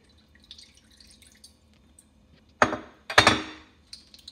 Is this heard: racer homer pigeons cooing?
no